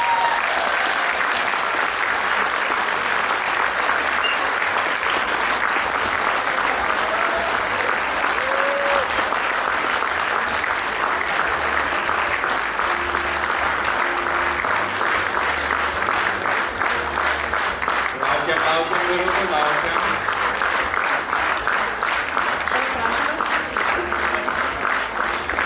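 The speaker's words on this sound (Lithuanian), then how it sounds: "pasitikime plojimais" Sustained audience applause at the 30th anniversary concert of the Gargždai children's choir "Klevelis", dense, steady clapping filling the hall for the whole stretch.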